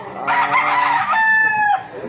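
A rooster crows loud and close, one long drawn-out call in two rising and falling phrases, from a backyard flock of chickens.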